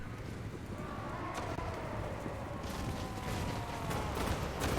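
Grenade launchers and gunfire in a Total War: Warhammer battle between the Empire and Chaos, a dense, continuous battle roar with scattered sharp bursts of fire throughout and no clear talk.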